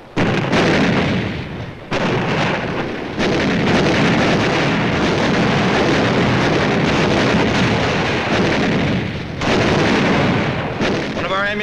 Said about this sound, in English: Artillery duel develops at night.